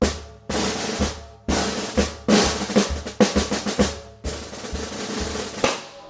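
Close, loud snare drum New Orleans groove built from quarter-note buzz rolls and crisp accents, repeating in a steady rhythm with no voices.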